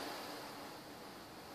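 Faint, steady broadband rushing of wind outside mixed with the hum of an oscillating fan indoors during a storm, with no voice.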